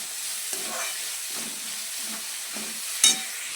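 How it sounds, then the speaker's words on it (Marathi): Tomatoes, coriander and green chilli frying in a pan, with a steady sizzle and a rhythmic scrape of stirring roughly every half second, close by and free of talk. "हिरवी मिरची परतली थोडीशी की मध्ये टोमॅटो आणि कोथिंबीर दिली टाकून तर छान आता ह्याला भाजून घेऊ आपण"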